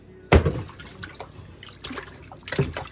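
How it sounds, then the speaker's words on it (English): Raw chicken is washed in a kitchen sink, with water splashing and sloshing in uneven bursts and a loud splash at the start, close and irregular over a few seconds. "get the chicken washed"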